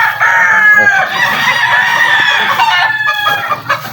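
A fighting rooster crows loudly and close by on a farm, one long sustained call that fills the whole stretch.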